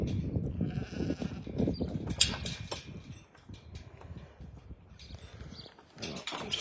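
Sheep bleat on a farm as they are herded in, several overlapping calls near and fairly loud amid shuffling and movement noise, with no talk.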